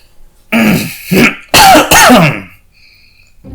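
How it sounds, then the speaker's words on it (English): A person clears their throat roughly and coughs a few times in quick bursts, close up, then a short pause follows. "The voice clears its throat and coughs a few times"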